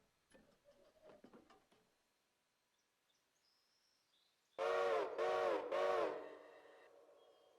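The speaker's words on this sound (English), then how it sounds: "I'm not being very consistent with my whistle" A train whistle in a railroad video game sounds three loud, evenly spaced blasts after quieter clicking and mechanical ticks, with the last blast fading out.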